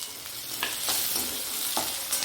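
Crushed garlic frying in hot oil for an araikeerai stir-fry, a steady loud sizzle with occasional stirring scrapes, close and continuous.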